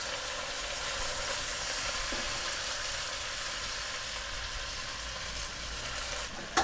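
Pumpkin pasta sauce with partly cooked pasta simmers in a pan, making a soft, steady bubbling sizzle that holds evenly throughout with no talking.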